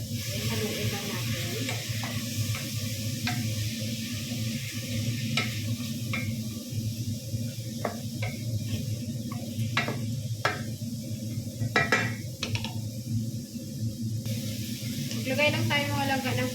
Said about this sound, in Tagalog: habang inigisa natin yung ating chicken, mga langga, ilagay natin yung lahat ng spices natin